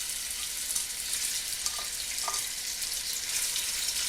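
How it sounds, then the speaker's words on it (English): Chicken pieces for curry hit hot oil and sizzle in a steady, close crackle with a couple of faint utensil taps, no voices. "Now we're going to dump this in here into the hot oil."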